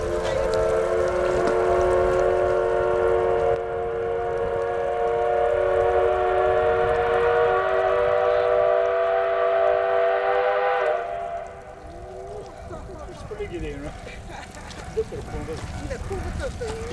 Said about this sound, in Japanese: 963号列車発車。